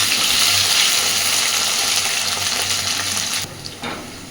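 Elephant foot yam (mete alu) frying in hot oil gives a steady, close sizzle that holds evenly, then eases a little near the end. No voices are heard.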